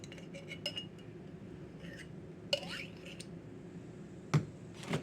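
A metal spoon scraping and clinking against a dish while scooping butter makes a few sharp, bright clinks over a soft low background hum, with quiet scraping between the taps.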